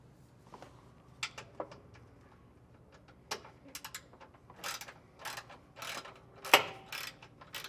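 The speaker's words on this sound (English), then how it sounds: "we're removing the one inside the wheel well here" A ratchet wrench clicking as factory bump stop bolts come out inside the wheel well of a 2025 Toyota Tacoma, quiet at first, then bursts of faster ratcheting and metallic clicks close by.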